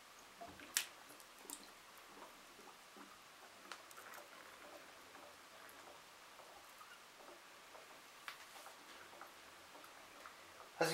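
Carbon dioxide gas bubbles from calcium carbonate reacting with acetic acid in a closed container, a faint, quiet fizz of irregular small pops and ticks with a few sharper clicks.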